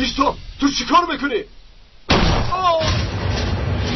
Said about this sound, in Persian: این صدای تیر بود. بله، صدای تیر بود.